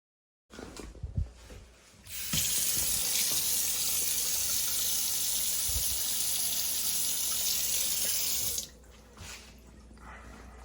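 Tap water runs steadily into a newly installed kitchen sink with a SnappyTrap all-in-one drain kit, tested for leaks; a few clunks come first, then about six seconds of loud continuous rushing flow that stops abruptly, with no talk.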